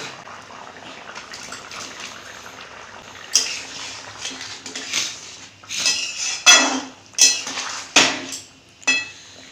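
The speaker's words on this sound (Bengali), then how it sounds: "এবারে ভেজে রাখা পনিরগুলো দিয়ে দিব" Fried paneer pieces are added to a vegetable curry in a pan, giving a series of clinks and scrapes of a utensil against metal over a low simmering background, sharper and louder in the second half, with no voices.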